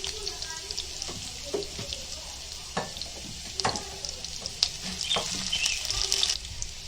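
Garlic fries in a pan as continuous bright sizzling, with scattered clinks and scraping of stirring and some watery splashing throughout, fairly close and steady.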